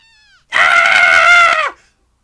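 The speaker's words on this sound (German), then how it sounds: "Wer schreit denn da so in dieser Stunde noch rum?" A single loud, close scream in Zelda: Skyward Sword HD rises suddenly and holds for about a second before dropping off, preceded by a faint whistling tone.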